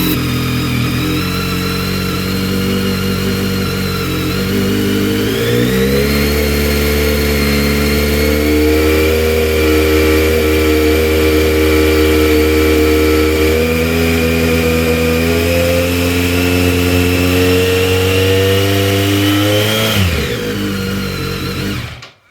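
A BMW K1300R motorcycle fitted with an Arrow slip-on exhaust holds a loud, close, steady engine drone at about 2000 RPM for roughly twenty seconds, climbing slightly early on and dropping away sharply at the end.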